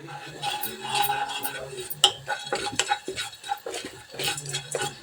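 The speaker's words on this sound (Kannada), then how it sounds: "ಇದನ್ನು ಸ್ವಲ್ಪ ಫ್ರೈ ಮಾಡಿಕೊಂಡು ಕುಟ್ಕೊಳ್ಳೋಣ." Tomatoes, green chillies, cumin and pepper frying in a home kitchen pan, with a spoon stirring and scraping against the metal in repeated clinks and clatters, close and fairly loud, with a soft sizzle underneath and no talking.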